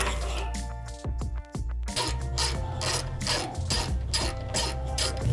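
Ratchet work loosening the A-arm bolts on a lowered F-150 truck: close, rapid mechanical clicking in repeated runs, with a brief pause before the ratcheting resumes steadily.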